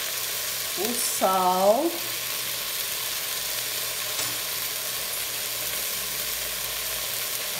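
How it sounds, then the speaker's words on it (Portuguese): Beef sautéing in a pan, a steady frying sizzle running through the whole stretch under a brief spoken phrase near the start. "A carne já está refogando."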